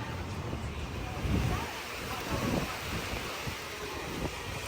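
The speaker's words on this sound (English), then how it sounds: "Thank God for the breeze." Sea breeze blowing in Key West as Hurricane Debby approaches, a steady rushing gust noise with low rumbling buffets against the microphone and surf in the background, no voices over it.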